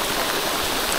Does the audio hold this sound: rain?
yes